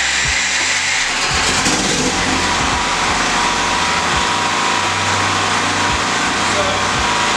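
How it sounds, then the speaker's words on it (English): A Red Rhino dual fuel generator runs with a loud, steady engine drone, along with irregular low knocks and thumps close by. "So I'm going to switch this thing on and we'll go ahead and start it"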